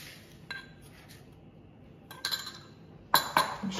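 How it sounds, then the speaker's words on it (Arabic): Butter and sugar beaten together in a bowl for an orange and almond cake, giving a few scattered bursts of clinking and scraping utensil-on-bowl sounds between quiet pauses, closest and busiest toward the end. "باش نبداو نركضوها مع السكر"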